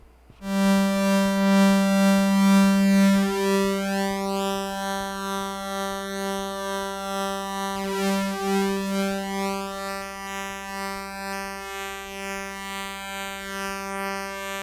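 A sustained buzzy Memorymoog Plus analog synthesizer tone of oscillator pulse waves across voices, rich in harmonics, holds steady with a slowly shifting, phasing timbre throughout.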